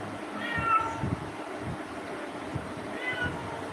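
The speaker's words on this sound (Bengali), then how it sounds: "বিলাই" Indoors, a cat gives two short meows about two and a half seconds apart, fairly faint against quiet room noise.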